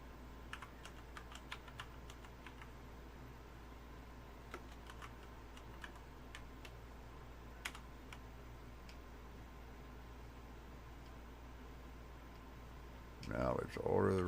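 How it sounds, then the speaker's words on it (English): Computer keyboard keys tapped in irregular bursts during PC gameplay, close clicks over a faint steady hum, with a voice cutting in only at the very end. "Y'all can probably hear me pecking on them keys"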